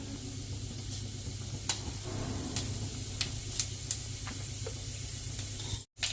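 Mustard seeds, cumin and urad dal spluttering in hot oil for a rice dish, a steady close sizzle broken by scattered sharp pops, with no talk.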